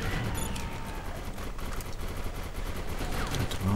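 Sustained gunfire fills a firefight in the sci-fi shooter Defiance, a dense, loud rattle of automatic shots running continuously for a few seconds with no talking over it.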